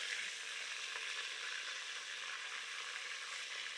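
Sausages frying in plenty of oil for spaghetti sauce, a steady close sizzle and crackle with no pauses, fairly quiet and alone.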